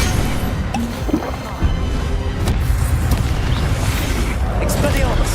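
Incendio fire spell cast in the video game Hogwarts Legacy, a dense booming burst amid continuous loud battle noise, with scattered impacts and a voice heard over it.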